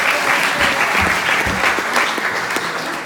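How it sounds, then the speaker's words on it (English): Audience at a university hypnotist show applauding loudly, dense steady clapping filling the whole stretch without letting up. "Give them a big round of applause."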